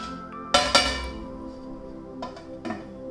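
A metal sieve set down over water in a kadhai, two sharp ringing metallic clanks close together, followed by a couple of softer clinks.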